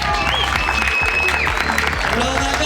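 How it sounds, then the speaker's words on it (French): An audience at a school year-end awards and closing ceremony applauds, steady dense clapping filling the hall while someone speaks over it into a microphone. "Est-ce qu'on peut acclamer d'abord?"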